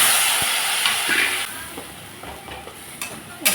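Kashmiri chilli powder, slit green chillies and spices frying in a pan with a little water, a steady hiss and sizzle with occasional scraping stirs of a spoon, close and alone.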